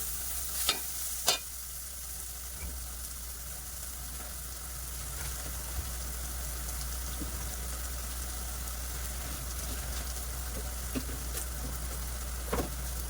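Onions with a spoonful of ginger-garlic paste fry in a pan for a chamadumpalu and egg pulusu curry, giving a steady, even sizzle with a few sharp stirring clinks near the start and end; no one speaks.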